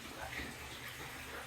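Water pumped in to refill a 600 gallon aquarium tank during a water change gives a steady, soft rushing hiss that runs unbroken at low volume.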